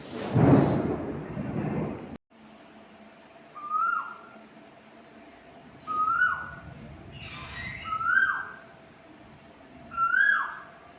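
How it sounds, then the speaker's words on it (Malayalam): An Asian koel repeats a rising, whistled call about every two seconds, clear over a steady background hum, after a short burst of louder noise at the start. "നമ്മുടെ കുയിലമ്മൻ്റെ കരച്ചൽ ഇപ്പോഴും നിന്നിട്ടില്ല"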